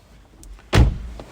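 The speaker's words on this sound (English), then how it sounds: "this car, as you'll see, we'll shut the door" A car door is shut once with a single firm, close thud that rings out briefly before fading into a quiet background.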